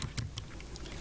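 Keys clack on a computer keyboard during website coding, a quick run of light, close taps in an irregular rhythm.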